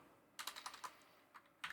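Someone types at a computer keyboard in short bursts of clicky keystrokes. A quick cluster is followed by a pause, then a few more taps, close and fairly crisp.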